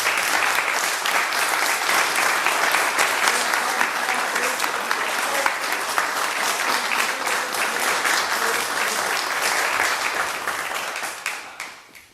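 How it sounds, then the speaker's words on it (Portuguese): A room full of people breaks into sustained applause, a steady dense clapping that continues for about ten seconds before tapering off, with no talking over it. "Então, a salva de palmas para nós para merecer."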